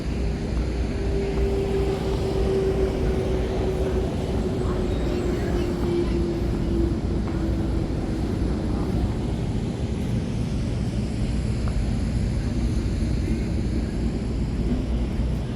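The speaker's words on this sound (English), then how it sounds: "I guess they got some like Porsche racing going on" Porsche Macan EVs racing on a motor club track, heard as a steady, continuous roar of vehicle noise with a faint drifting whine, fairly distant and unbroken, with voices faintly mixed in.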